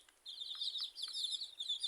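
Desi chickens kept for brooding inside a cage give soft clucks and chirpy calls, a quiet, repeated chatter of several birds without any voices.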